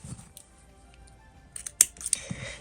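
Scissors snipping away excess material during a folding craft, a few quiet crisp cuts near the end after a near-silent stretch.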